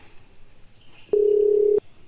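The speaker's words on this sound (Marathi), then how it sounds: "राहुल्याला फोन लाव" A single steady telephone tone sounds for about half a second over a quiet background, ending with a short click.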